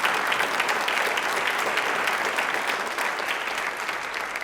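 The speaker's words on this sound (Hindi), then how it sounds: "तो एक बार तालियां प्लीज इस अभियान के लिए हो जाए जोरदार वाली।" Loud, dense applause from a studio audience on a Rajasthani quiz show, cheering a social campaign with a thick continuous wash of clapping that holds steady from start to finish without any voices.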